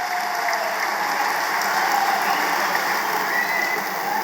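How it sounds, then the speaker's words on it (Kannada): Loud, sustained applause from a large audience welcoming the chief minister to the stage at a centenary ceremony, dense and even clapping throughout with no voices. "ನಿಮ್ಮ ಜೋರಾದ ಚಪ್ಪಾಳೆಯ ಸ್ವಾಗತ"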